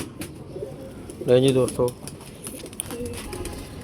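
A pigeon coos once in a short, throaty burst close by, while someone talks about a Jaunsari pigeon over faint background chatter.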